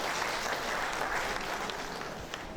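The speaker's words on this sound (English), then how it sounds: "Shall we give her a round of applause?" A lecture audience applauds in a steady, dense wash of clapping from many hands that holds evenly from start to finish, with no voices over it.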